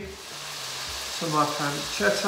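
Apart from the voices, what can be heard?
spaghetti sizzling in a hot pan with pancetta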